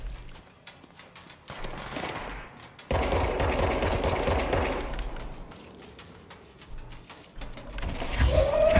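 Rapid gunfire crackles in the action game Control, a fast rattling stream of shots that grows louder and denser partway through and continues under the general game noise.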